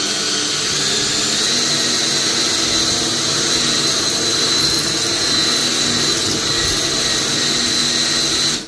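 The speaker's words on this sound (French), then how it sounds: "Tenez toujours la visseuse comme ça, avec la mèche à 45 degrés, une fois que ça commence à percer" A drill bores into bathroom wall tile with a steady, loud, unbroken whine and grind that lasts about eight seconds before cutting off sharply.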